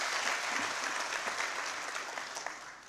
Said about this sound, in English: So a better hand clap